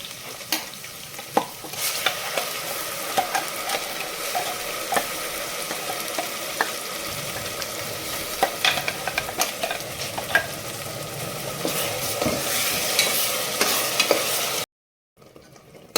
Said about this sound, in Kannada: ಇದು ಸ್ವಲ್ಪ ಹಸಿ ವಾಸನೆ ಹೋಗೋವರೆಗೂ ಸ್ವಲ್ಪ ಫ್ರೈ ಮಾಡ್ಕೊಳ್ಳೋಣ ಸ್ವಲ್ಪ ಎಣ್ಣೆಯಲ್ಲೇ ಫ್ರೈ ಆಗಲಿ ಇದು